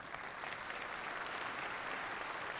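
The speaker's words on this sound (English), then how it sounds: "Give them a round of applause, too." A crowd at a winter commencement ceremony applauds the police crew, giving steady, dense, even clapping heard alone and fairly distant.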